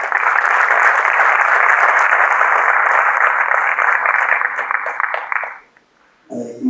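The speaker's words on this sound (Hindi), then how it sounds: "एक बार उनको थोड़ा जोर से ताली बजाइए." A hall audience applauds loudly for several seconds, dense steady clapping that fades out near the end before a voice resumes.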